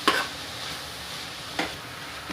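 Spinach being stirred into frying masala for dhaba-style palak dal, a soft continuous sizzle with two brief scraping swells of the spoon, one at the start and one midway.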